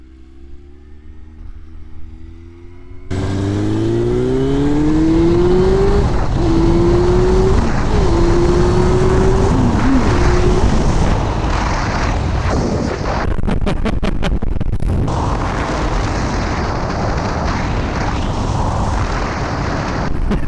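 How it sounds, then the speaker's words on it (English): A loud Yamaha FZS 600 Fazer motorcycle engine roars and revs continuously, rising in pitch through several throttle blips, then holds a heavy, rumbling drone with crackling bursts. "I've just never ridden a bike that sounds like this before"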